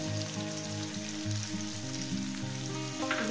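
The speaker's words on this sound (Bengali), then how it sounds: "দিয়ে দেবো এখানে পেঁয়াজ কুচোটা" Chopped onion fries in oil with a dense, continuous sizzle and crackle, close and fairly loud, alone without voices.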